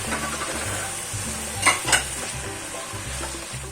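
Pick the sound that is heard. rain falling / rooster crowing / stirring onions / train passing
stirring onions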